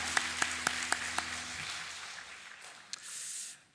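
A few sharp, separate claps ring out in a church sanctuary during a Sunday service, followed by a quieter, brief burst of congregation applause that fades.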